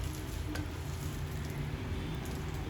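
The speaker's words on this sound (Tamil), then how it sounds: "நல்லா முறுமுறுண்டு ஆற வரைக்கும் நல்லா கருவேப்பிலையை வறுத்துக்கலாம்." Curry leaves fry in a pan for Andhra style paruppu podi, a soft steady sizzle and crackle, faint and continuous with no talk.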